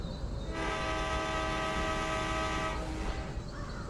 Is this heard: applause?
no